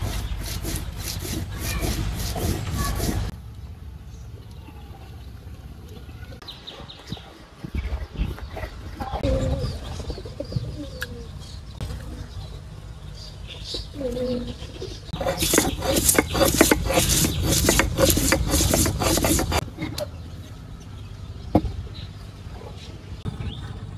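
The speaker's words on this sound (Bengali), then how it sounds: "মাছ বোনার লাগে যে মশলাগুলো লাগবে ওগুলো এখন আমি বেটে নেব।" Spices for a fish curry are ground on a stone slab in a simple village kitchen, with rough rhythmic scraping strokes in loud bursts separated by quieter stretches, close up, and a few faint background sounds between.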